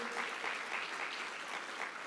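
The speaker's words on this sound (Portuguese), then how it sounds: "Você pode aplaudir a Deus pela vida dessa mídia, dessa igreja." A church congregation claps in steady, even applause during a service, a short burst of many hands with no voices over it.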